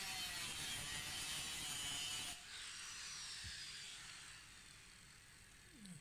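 Iron being cut for a pergola gives a high, harsh grinding whine, loud for about two seconds, then a fainter, thinner cutting noise with a few light knocks.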